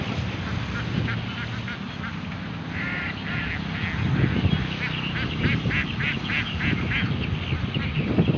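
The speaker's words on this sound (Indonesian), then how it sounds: "Kali ini kita melihat bebek paya." A large flock of about 500 young Pekin-type ducks, around two and a half months old, quacks continuously in a dense, overlapping chorus that grows louder and busier toward the end.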